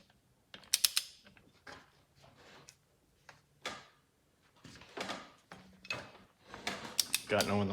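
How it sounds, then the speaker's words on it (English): A torque wrench ratchets in short bursts of clicks while tightening bolts on a golf cart engine during a rebuild, close and fairly quiet with pauses between strokes. "So let me get the torque wrench."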